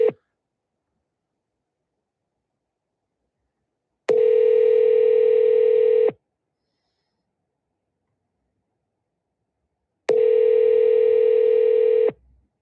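A telephone call rings out while waiting for an answer: two long, loud buzzing ring tones of about two seconds each, separated by several seconds of silence, with no voices.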